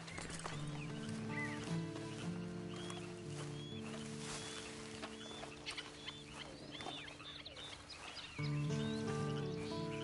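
Horse riding in the western game Red Dead Redemption 2, with hooves and tack sounds under a steady musical drone, farmyard clucking and bird calls scattered around, all fairly quiet.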